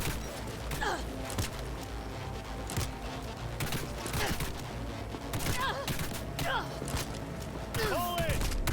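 A ragged gunfire volley rattles through a video game battle, with repeated sharp shots and bursts over a busy background, while shouting voices and cries rise and fall underneath.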